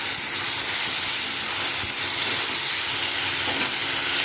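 Tomato puree sizzles in a pan with ginger-onion-garlic paste while a Bengali fish curry masala cooks, giving a steady, close hiss with faint crackles and no talking.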